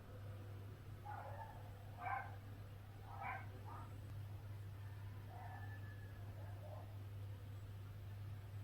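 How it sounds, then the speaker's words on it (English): Several short barks from dogs at a distance, scattered in small bursts over a steady low hum, fairly faint in the background. "My dogs are barking."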